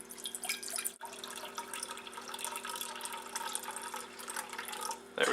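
Vegetable stock pouring steadily into a saucepan for wild mushroom risotto, a continuous liquid splash that holds for about five seconds with a brief break near the start, close and moderately loud with no talking.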